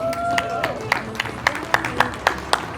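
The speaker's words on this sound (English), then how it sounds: "So give Michele a round of applause" A crowd at a CrossFit semifinal event breaks into applause for an athlete, steady clapping with a few sharper claps standing out, heard at moderate volume alongside faint background voices.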